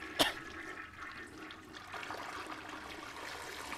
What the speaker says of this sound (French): on tire la chasse d'eau quand même